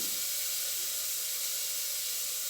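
Green chillies hit a hot pan and sizzle, a steady bright hiss that holds evenly throughout at moderate loudness.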